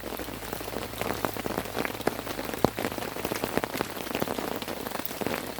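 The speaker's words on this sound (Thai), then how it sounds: "ฝนนั้นตกทั้งคืนเลยนะครับตอนนี้" Steady rain falls in a forest around a patrol base after days of continuous downpour. It makes a dense, close patter of drops hitting surfaces, with scattered louder splats throughout and no voices.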